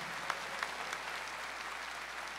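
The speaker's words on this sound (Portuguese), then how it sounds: "Vamos dar uma salva de palmas a Nossa Senhora?" Church congregation gives a round of applause for Our Lady during a Mass, a soft, even wash of clapping heard from a distance with a few sharper claps.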